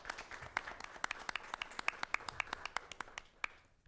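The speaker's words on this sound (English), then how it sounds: "Can we all give a round of applause to this panel?" Audience applause for a panel at a sexual assault awareness event, heard as a moderate, fairly distant patter of clapping from a crowd that fades out at the end.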